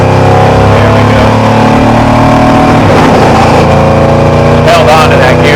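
A Ford Ranger with a 347 stroker engine revs hard and holds a gear under acceleration, its loud, close roar sustained throughout with the pitch climbing and shifting.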